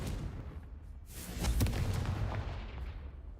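A Confringo spell blast in Hogwarts Legacy, a muffled booming burst that swells to a peak and then rumbles away, fairly faint.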